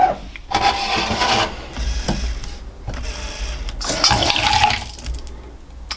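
Water runs from a tap in bursts into a measuring cup, rushing and splashing in several separate pours with brief gaps and small clinks between them.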